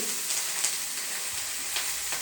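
Fresh bathua greens go into a pot of pressure-cooked dal, giving a soft, quiet sizzle with faint stirring scrapes and small rustles throughout.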